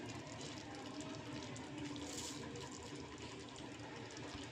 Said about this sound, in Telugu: ఈ వాటర్ నేను వేస్తున్నాను